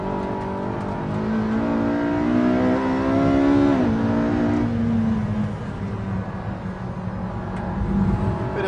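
A Ferrari sports car accelerating hard out of a corner in third gear, the engine note climbing loud and close, then easing into a steady high drone down the straight.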